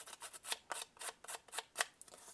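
Tim Holtz deckle trimmer being run along paper edges, a series of about a dozen quick, crisp scraping strokes in an uneven rhythm, close and fairly quiet, with no talking.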